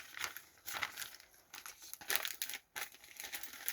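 Clear plastic poly mailer bag crinkling and rustling up close, a steady run of crisp crackles with brief pauses, no talking.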